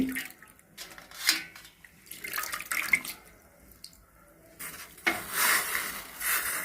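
A glass of water with kondapindi leaves comes to a boil for a herbal decoction, with irregular bursts of bubbling and watery rushing, louder toward the end, and no voice.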